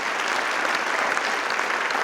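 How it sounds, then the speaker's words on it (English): Audience applause fills a school auditorium at a high school fall band concert, a steady, dense wash of many hands clapping without a break from start to finish. "if we could give him a round of applause for helping the setup and being here tonight."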